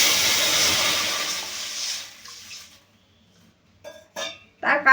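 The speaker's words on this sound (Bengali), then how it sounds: "এখন একটু কড়াই জল দিয়ে দেব" Water poured into a hot wok bursts into a loud hissing rush of steam that fades away within about two seconds, followed by near silence and a few brief clattering knocks.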